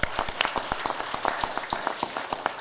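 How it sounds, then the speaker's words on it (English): A small group of people clapping at a recovery-living panel, with steady, fairly sparse hand claps continuing throughout at moderate volume and no talk. "So round of applause for you all."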